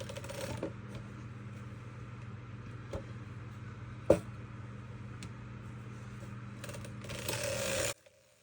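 A circular sock knitting machine is cranked by hand, knitting a sock tube in Patons sock yarn. It gives a continuous quiet mechanical whir with soft ratcheting clicks and one sharper knock, then stops abruptly.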